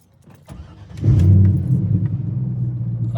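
A Corvette with a straight-pipe exhaust fires up close by, surging into a loud, deep rumble before settling into a heavy, throbbing idle.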